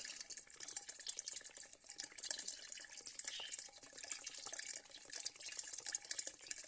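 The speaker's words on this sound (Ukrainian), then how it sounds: "Заливаємо вершки." Cream poured from a container into fish soup broth in a kazan, a steady liquid splashing and trickling that runs unbroken for several seconds, close and moderately loud, with no talking.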